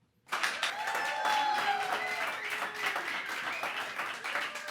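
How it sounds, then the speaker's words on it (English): An audience applauds to welcome a performer named Camila, clapping starting abruptly after a brief pause and holding steady and dense, with faint voices mixed in. "please welcome with a warm applause"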